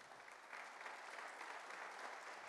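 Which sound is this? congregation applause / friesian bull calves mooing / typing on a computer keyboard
congregation applause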